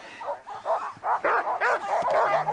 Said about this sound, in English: This dog needs to go over there.